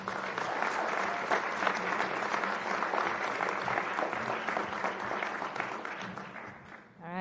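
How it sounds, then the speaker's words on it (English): Audience applause for speaker Alicia Bell at a morning workforce event, a sustained dense wash of clapping that holds steady for several seconds before thinning and fading out at the end. "Let's please give a big round of applause for Alicia Bell."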